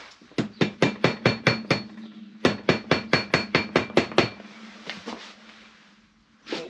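Two quick bursts of about eight sharp, evenly spaced metallic taps ring out on a Kawasaki Z1 motorcycle crankcase cover being knocked loose on a bench, followed by a few scattered hits.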